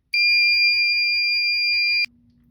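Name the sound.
Fire-Lite MS-5UD fire alarm control panel sounding on system reset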